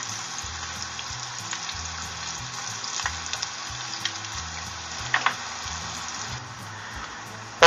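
Dandelion flowers deep frying in hot oil give a continuous crackling sizzle, close and moderately loud, with scattered sharper pops and soft scraping clicks as they are rolled over in the pan.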